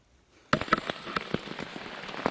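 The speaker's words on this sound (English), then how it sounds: "the rain that was threatening to come finally came" Rain begins pattering on a campsite during an off-trail solo camping trip, starting abruptly after a moment of quiet and continuing as irregular, close drops striking taut surfaces.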